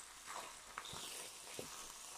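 Chicken mince frying in a pan, a faint, steady sizzle with a few soft stirring scrapes and clicks, quiet and close, with no voices.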